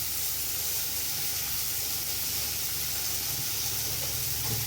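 Onion paste sizzles in a hot kadai, a loud, steady frying hiss that carries evenly from start to finish with no talking.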